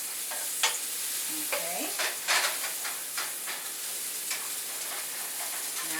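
Onions browning in a pan, a constant bright sizzle under repeated scraping strokes of a spoon being stirred through them, with a short spoken word partway through.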